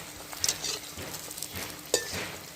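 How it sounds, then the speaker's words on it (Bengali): Malpua batter frying in hot oil in a home kitchen: a soft, steady sizzle with light patter, broken by a few sharp clinks of a utensil against the pan, heard close and quiet with no talking. "খালি তারপরে এটাকে ওলট পালট করে হালকা লাল লাল করে ভেজে নেবেন"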